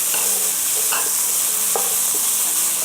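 Green beans stirred into browning ground meat in a hot pan, a loud continuous sizzle and hiss with occasional scraping clicks of the spatula against the pan.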